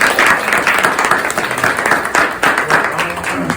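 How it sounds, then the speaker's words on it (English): An audience at a donation stop on a homeless outreach tour breaks into a round of applause, fairly loud, dense clapping that ebbs and surges, with voices mixed in under it. "Let's give them a big round of applause."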